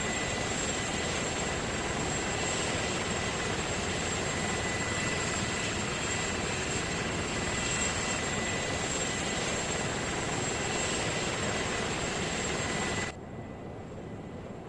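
A constant roaring Apache helicopter engine in a video game with dense rotor noise, steady and loud, cutting off abruptly near the end.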